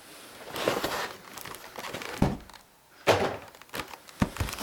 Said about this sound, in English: So I'll get it out of the box.